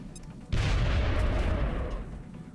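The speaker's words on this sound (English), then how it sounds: "Throwing grenade." A grenade blast in XCOM: Enemy Within, one sudden heavy boom that hits after a short quiet lead-in and rumbles loudly for over a second before fading, with no voices.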